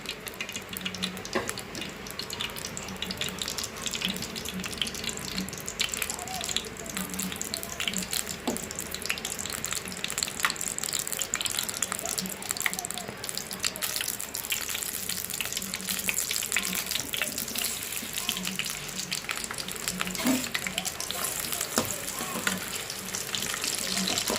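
Shredded cabbage fries in hot oil in a pan, giving a steady dense sizzle and crackle that holds at a constant moderate level throughout.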